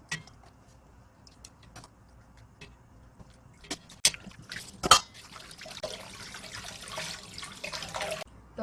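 Cold tap water runs steadily over pork ribs being washed in a kitchen for a braised stew, a continuous splashing rush rising after a few sharp clinks and building toward the end.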